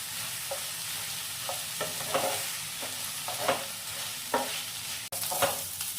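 Rice is stirred in hot ghee in a pan for Basanti pulao, with a steady sizzle underneath and repeated scraping strokes of the spoon at an irregular rhythm, close and fairly loud, with no voices.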